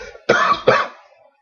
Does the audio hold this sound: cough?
yes